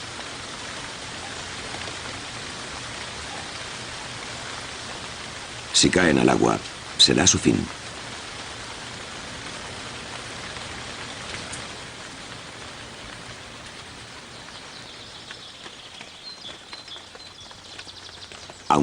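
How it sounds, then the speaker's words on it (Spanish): Heavy torrential rain falls steadily in the open, a dense continuous hiss with a brief louder burst of drops partway through, and a voice narrates over it. "todo cambia cuando se trata de lluvias torrenciales"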